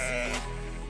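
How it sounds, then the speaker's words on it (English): A single short sheep bleat from the video game House Builder, close and clear, over a steady low background hum. "Got some sheep."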